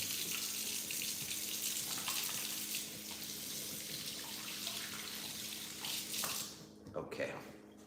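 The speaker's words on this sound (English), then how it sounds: "Okay, I just rinse my hands off." A running tap rinsing hands in a kitchen sink while cooking, a steady close hiss of water that cuts off near the end, with faint background hum.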